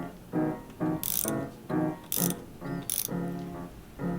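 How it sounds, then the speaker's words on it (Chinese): A screw on the clutch lever of a Triumph Trident 660 motorcycle is loosened to adjust the lever angle. Close, crisp ratcheting clicks come in short, uneven bursts, with no talk. "只需要把上面的这一根螺丝转松了以后，就可以开始调整角度"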